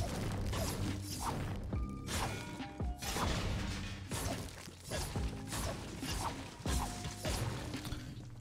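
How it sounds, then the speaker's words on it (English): Studded Axe pickaxe swings and farming hits in Fortnite, a run of sharp whooshes and mechanical clacks recurring every second or so at moderate level with no talk. "you guys can clearly hear the actual swinging sound, not the actual connecting sound"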